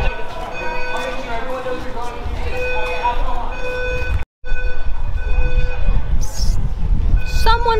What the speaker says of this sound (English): Someone pulled a fire alarm.